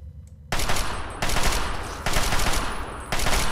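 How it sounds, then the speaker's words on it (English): Assault rifle gunfire in the Fallout 3 video game, rattling out in four loud sustained automatic bursts separated by brief pauses, close and dominant with no talking. "Let's go with the assault rifle."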